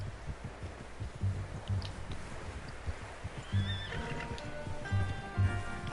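Horse in the Red Dead Redemption 2 video game giving a wavering neigh over soft clip-clop hoofbeats, fairly quiet against a background of steady thuds.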